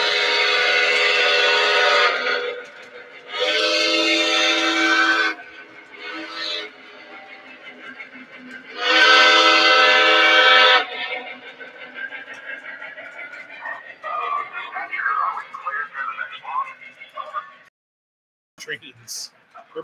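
A loud Southern Pacific model train engine sounds in bursts: three long, strong horn-like blasts, the second and third separated by quieter, rattling running noise that continues until it cuts off near the end.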